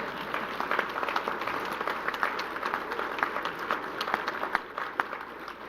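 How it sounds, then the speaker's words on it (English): Conference attendees at a World War II history event applaud in a steady, moderately close patter of many hands clapping that continues without a break. "Then you can applaud that if you like."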